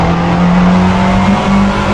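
An LMP2 race car in Assetto Corsa locks its brakes, a loud close tire squeal holding a steady tone over the engine drone for a couple of seconds.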